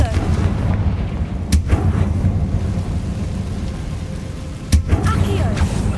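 A Confringo blasting spell goes off in a video game, two sharp explosive bursts over a rumbling, rain-like ambient background, with a voice speaking around them.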